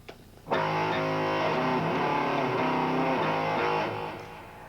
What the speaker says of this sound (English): And even the modern rock sound like this, Laura.